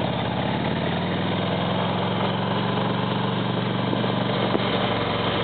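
A Harley-Davidson motorcycle engine runs steadily and loud throughout, a constant low throb carrying two riders along the winding Tail of the Dragon road at Deal's Gap, with no talk over it.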